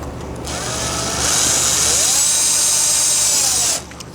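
A power tool spins a 4mm bolt down on a Lotus Evora GT supercharger lid, a loud whining drill note that ramps up, holds high for a few seconds, then cuts off abruptly.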